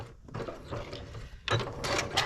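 A sewing machine stitches around a diamond on a flip-square quilt block, giving faint, short mechanical whirring runs with ticking gear sounds in quiet bursts.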